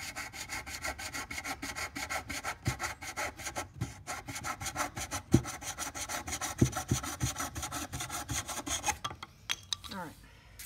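Wooden frame strip being trimmed and sanded flush by hand, a steady rasping, rubbing stroke repeated close up for about nine seconds, with a few sharper knocks, then a brief pause and a scuffle of handling at the end.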